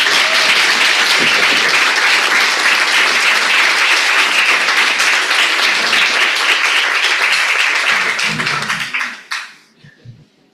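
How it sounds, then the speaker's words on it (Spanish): An audience at an Argentine debating association's national grand finals applauds loudly and steadily for several seconds before the clapping thins out and fades to a few scattered claps. "Pero los podemos aplaudir."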